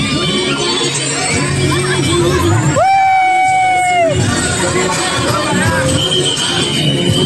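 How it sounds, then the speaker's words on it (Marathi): A large crowd of visitors at Kalmandvi waterfall fills the air with loud, close babble, shouts and whoops, and one long high call rings out above the hubbub midway. "आता जी गर्दी झाली आहे एकदम खतरनाक गर्दी झाली आहे"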